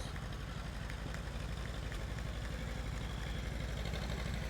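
A 1956 John Deere 520 two-cylinder tractor chugs steadily at a parade, a low, even rumble heard at a moderate distance, with no talking over it.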